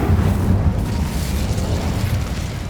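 In the video game Hogwarts Legacy, an Incendio fire spell goes off as a dense, rumbling burst like a fiery explosion. It stays loud for a few seconds before easing slightly.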